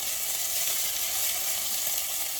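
Meatballs frying in a pan give off a steady, bright sizzle that holds at an even level throughout, close by and alone with no voices.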